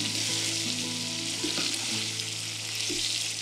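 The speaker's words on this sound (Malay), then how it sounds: "Gaul biar ayam bersalut sambal tu." Partly fried chicken stirred into sizzling sambal for ayam masak merah, a steady close frying hiss with faint clinks of stirring throughout.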